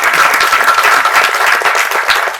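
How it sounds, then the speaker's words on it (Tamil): An audience applauds at a film director's speech, a loud, dense burst of many hands clapping continuously and close. "அது சொன்ன உடனே எவ்வளவு கைத்தட்டல் பார்த்தீங்களா?"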